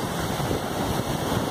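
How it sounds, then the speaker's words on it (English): Ocean waves break and wash up the shore at Huntington Beach, California, a steady, broad rushing surf with wind noise buffeting the microphone throughout, no voices. "can see big powerful swash as the waves are breaking"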